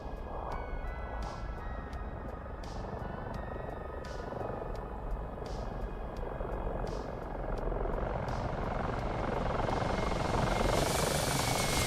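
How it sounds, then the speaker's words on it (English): A helicopter in a multiplayer flight simulator game with F-16 and AH-64D aircraft, its steady rotor chop and turbine whine holding loud and continuous, swelling nearer toward the end. "I can hear a helicopter."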